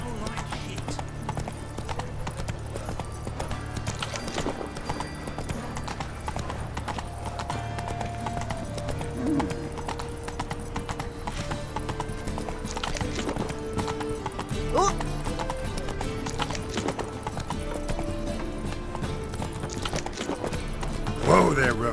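Roach the horse clip-clops at a steady trot in The Witcher 3: Wild Hunt, with the hoofbeats running throughout over game music and sound, a whinny in places, and voices talking.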